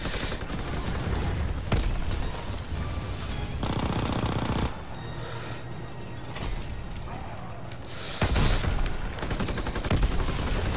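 Rapid automatic gunfire and explosive booms from a Call of Duty Zombies match come in loud bursts and short pauses, dense and continuous, with players talking over the shooting.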